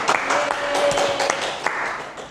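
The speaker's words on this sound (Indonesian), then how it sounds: "Tepuk tangan kawan-kawan." Audience applause closing a regional journalists' association meeting in Central Papua, steady moderate clapping over 2 seconds with a faint sustained tone and light voices underneath.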